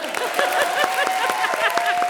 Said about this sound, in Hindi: ताली बजा रही है जज भी